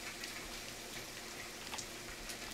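Rain in the video game The Forest falls as a steady, soft hiss with scattered patter, continuous and faint through a brief stretch, with no voices.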